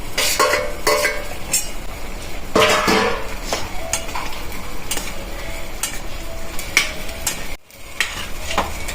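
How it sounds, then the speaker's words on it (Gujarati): A utensil scrapes and clatters against a metal pot as fried vegetables are stirred in for a Punjabi curry, with a soft sizzle underneath and sharp clinks throughout; no voices. "હવે આપણે આ બધી જે તળેલી છે ને શાકભાજી આમાં નાખી દઈશું"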